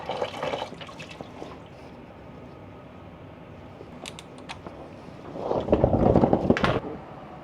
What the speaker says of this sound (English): Oh, that's already coolant coming out.